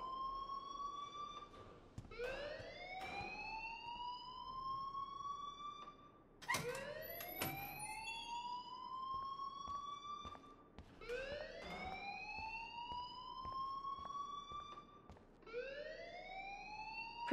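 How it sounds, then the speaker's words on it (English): A school alarm rings in the video game Life Is Strange, a repeating electronic whooping tone that sweeps upward, four cycles with short gaps between them, steady and alone with no talk. "please turn off that alarm since that's your job"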